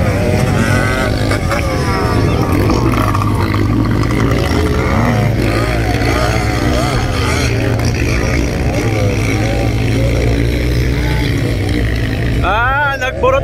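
A racing motorcycle engine runs hard in an open beginners race, a loud, steady droning roar that stays close throughout while an announcer talks excitedly over it.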